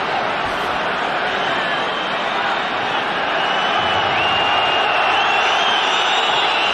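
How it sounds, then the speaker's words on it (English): Football stadium crowd at a 2002/03 Eredivisie match between PSV and Feyenoord, reacting unhappily: a dense, steady, loud roar of many voices that fills the whole stretch without a break. "Crowd aren't very happy with that."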